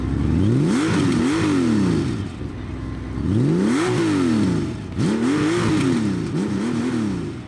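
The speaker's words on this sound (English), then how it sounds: "The Valkyrie is also one of the coolest exhaust notes to hit the pavement" A 1999 Valkyrie six-cylinder motorcycle fitted with an aftermarket six-into-six exhaust, revved in three sharp bursts, each rising and falling before the next, loud and close, with no talking.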